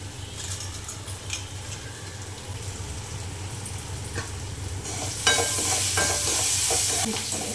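Onions salted with rock salt fry toward golden in a pan, giving a steady close sizzle with occasional stirring scrapes; the hiss swells brighter and louder near the end.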